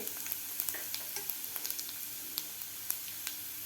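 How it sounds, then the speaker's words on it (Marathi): Cumin seeds and garlic fry in hot oil, making a close, even sizzle scattered with small crackling pops, with no voices. "जिरेसुद्धा आपले व्यवस्थित फ्राय झालेले आहेत"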